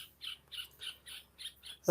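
A small bird screeches overhead outdoors, giving a run of about seven sharp, raspy squawks at a steady rhythm, moderately loud, with no talking.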